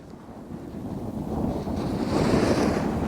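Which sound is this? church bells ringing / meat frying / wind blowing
wind blowing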